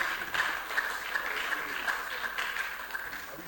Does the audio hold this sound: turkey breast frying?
no